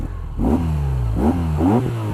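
A BMW R NineT motorcycle's boxer engine idles, then is blipped several times, each rev rising sharply and falling back, loud and close.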